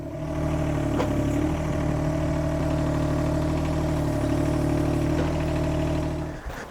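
The engine of a hired digger runs at a steady idle, a loud, even mechanical drone that holds close for several seconds before dropping off at the end.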